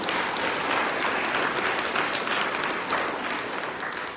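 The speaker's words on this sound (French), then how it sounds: "Alors on peut applaudir l'équipe spiritualité." A church congregation at Sunday Mass applauds the spirituality team, with dense, sustained clapping from many hands that fills the room at an even level from start to finish.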